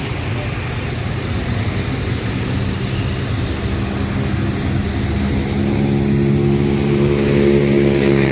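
A Sipirok Nauli bus warms up with its engine revving and roaring, a loud, continuous low drone that builds slightly over the stretch, with faint voices in the background.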